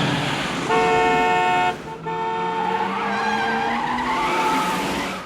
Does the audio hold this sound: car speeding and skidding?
yes